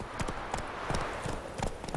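Horse hooves clip-clop in steady, fairly close rhythm while riding in the video game Witcher 3, the irregular hoofbeats repeating over ambient game background noise.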